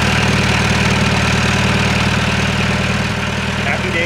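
A boat engine chugs at a steady idle after starting, with a rapid, regular low throb and some mechanical rattle, loud and close.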